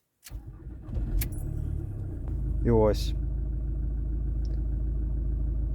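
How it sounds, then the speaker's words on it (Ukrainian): A car engine turns over and catches near the start, then settles into a steady, close idle rumble that runs to the end, with a short spoken voice over it. "Тепер давайте запустимо двигун."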